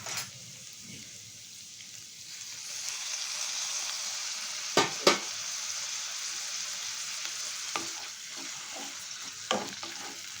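Onion and chopped tomato fry in a pan for coriander pasta, a continuous close sizzle that swells midway, punctuated by a few sharp spatula knocks and scrapes; no one speaks.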